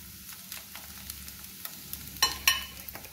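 Egg frying in oil with onions, a steady close sizzle under stirring, with two sharper scrapes of the spatula near the end.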